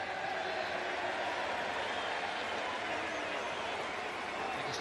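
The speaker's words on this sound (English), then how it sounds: "Cheer of the day so far from the home supporters." Home supporters of the Central Coast Mariners cheering at an A-League football match against Macarthur FC: a dense, loud, continuous stadium crowd roar that holds steady throughout.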